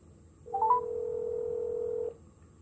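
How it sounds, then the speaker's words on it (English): A Samsung Galaxy Note 8 on T-Mobile places a call to a time-and-temperature line: a few quick dialing beeps, then a single steady tone held for about a second and a half before stopping. "And it's making a phone call."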